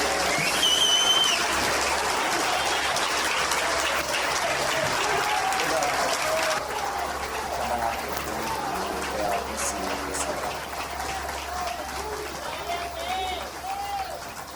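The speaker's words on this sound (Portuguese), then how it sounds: "Eu quero que você receba com a melhor salva de palmas" Sustained applause from a large church convention crowd, dense and continuous clapping filling the room, with voices mixed in throughout.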